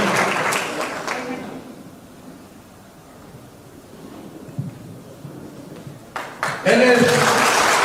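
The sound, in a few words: audience applause for a pastor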